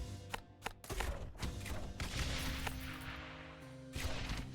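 Mortars fire in a tower-defense style video game, a loud run of booming thumps and blasts with sharp bursts clustered at the start and more thuds layered over a dense, rumbling din.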